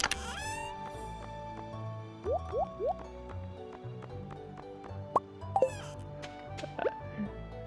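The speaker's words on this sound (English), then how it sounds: "And then we're gonna go water this." Watering crops with a watering can in the Stardew Valley farming game: quick, bright pouring splashes and droplet blips, repeated a few times over soft background game music.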